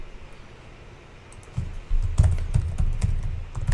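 Typing on a computer keyboard, a quiet start building into a dense run of clicking keystrokes in an irregular rhythm, close and clear, with no talking.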